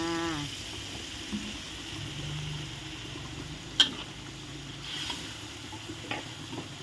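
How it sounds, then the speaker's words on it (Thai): Boxed coconut milk pours into a pot of Thai chicken curry with pickled bamboo shoots, then gets stirred, giving a steady low bubbling sizzle with faint scrapes and a sharp clink, close and quiet with no talking. "กะทิกล่องนะจ๊ะกะทิกล่องเทลงเลย"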